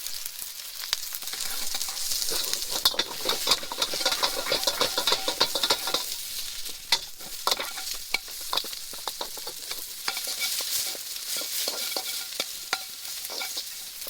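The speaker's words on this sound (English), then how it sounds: "Nice hot wok. So first thing go the onions because they take the longest." Onions sizzle and crackle steadily in oil as they are stirred in a hot wok, with scraping and light clatter throughout, no voices.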